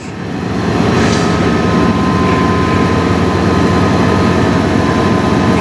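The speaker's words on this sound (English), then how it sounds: "it's not easy pulling up the hill from a dead stop like this" A CN freight train straining uphill from a dead stop, partly inside a tunnel: a loud, steady, droning engine roar that swells in the first second and then holds close and constant.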